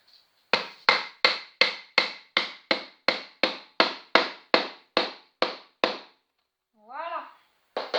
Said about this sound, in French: Et avec le marteau,